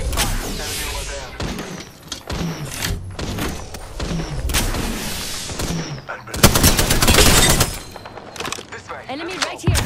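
Rapid bursts of automatic gunfire and impacts from a fight in the battle royale game Apex Legends, loud and close with a heavy sustained volley near the end, while in-game voice callouts speak over it.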